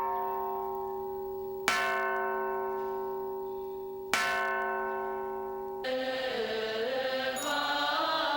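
A temple bell at Fo Guang Shan monastery in Kaohsiung rings out in two loud, resonant strikes a few seconds apart, each leaving a long humming decay, before a busier mix of noise takes over near the end.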